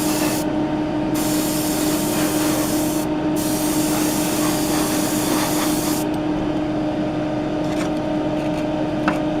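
An aerosol sprays a wetter gloss coat onto a 1/12 scale Tamiya Yamaha YZR M1 model motorcycle, a continuous loud close hiss that barely changes across the whole stretch.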